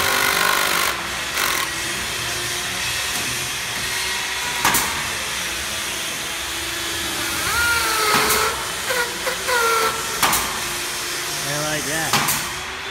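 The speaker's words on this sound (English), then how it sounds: "The Mantis clip system being used on ModernView Decking." Workers install ModernView decking with the Mantis clip system, a steady machine drone with repeated sharp clicks and bursts of fastening, while someone talks over the work throughout.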